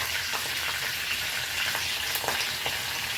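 Ground onion and garlic paste fries in a hot pan, giving a steady close sizzle with scattered crackles and pops throughout, no voices.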